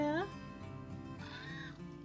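A pet cat lets out a sharp, close meow at the start. A woman's fond chatter to it carries on throughout, with a softer, drawn-out meow rising under her voice near the middle.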